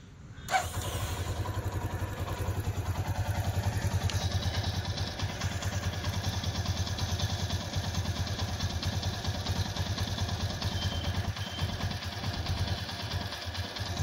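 A motorcycle engine starts up and then idles steadily, a close, loud throbbing rumble that runs throughout with a faint mechanical clatter.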